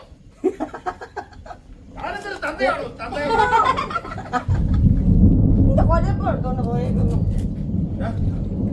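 Thunder rolls in as a deep, loud, sustained rumble after a stretch of people talking and laughing, with voices continuing over it.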